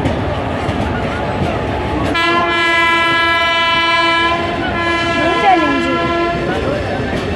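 A locomotive hauling old passenger coaches rolls past with a loud, sustained horn blast. The horn sounds for several seconds over a continuous rumble of wheels and rails.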